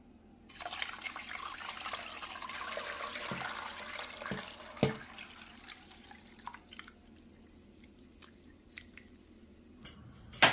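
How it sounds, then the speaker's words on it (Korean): Barley malt (yeotgireum) water pours through a sieve in a steady, splashy rush for several seconds. Then come scattered drips and light knocks, and a louder clatter at the end. "이것을 이제 체에 걸러서 찌꺼기는 버리고 국물을 가지고 이제 따려서 사용할 거거든요"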